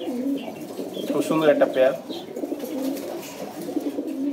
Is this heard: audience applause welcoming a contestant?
no